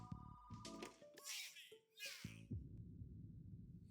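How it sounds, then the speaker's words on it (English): A cartoon telephone rings loud and near in short bursts of bright electronic tone, broken by brief whooshing animated sound effects before the ringing resumes. "The phone starts ringing."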